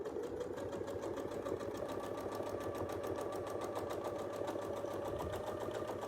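A sewing machine stitches a quilt using Westalee Sashlee ruler templates, running continuously with a fast, even mechanical chatter and hum at close range, with no talk over it.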